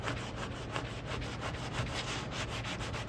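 Steady, close sanding along the body line of a 1996 Dodge Dakota, with a continuous abrasive rubbing rasp and rhythmic strokes about every fraction of a second, alone with no talk.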